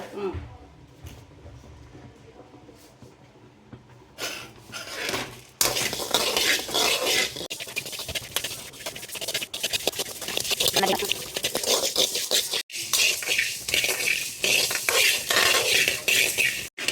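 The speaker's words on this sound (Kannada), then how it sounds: "ಕೊತ್ತಂಬರಿ ಬೀಜ ಅದು ಕೂಡ ಸ್ವಲ್ಪ ಚೆನ್ನಾಗಿ ಹುರಿಕೊಂಡು ಸ್ವಲ್ಪ ಪರಿಮಳ ಬಂದ ಮೇಲೆ" Coriander seeds roasting in a pan while being stirred for a North Karnataka style stuffed brinjal dish, giving a steady dense rattle and scraping after a quieter start, close and continuous.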